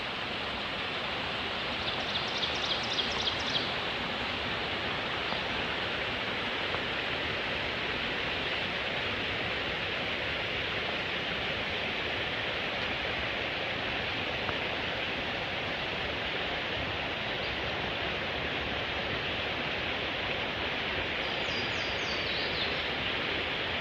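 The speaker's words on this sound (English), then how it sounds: "So we have this little creek beside us." A small creek flows beside a hiking trail in Shenandoah National Park, a steady soft babbling rush that holds evenly throughout, with faint birdsong now and then.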